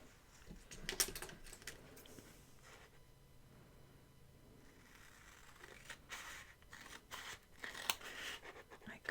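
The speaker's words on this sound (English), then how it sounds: "Actually, I might cut it while it's on here." Scissors snip through paper during a planner setup, a quiet run of short, scattered cuts and rustles close by, with no talk.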